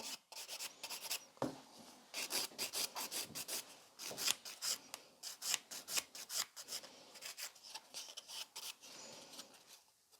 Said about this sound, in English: I like to use the corner of the file to go really in there and create those nice scratches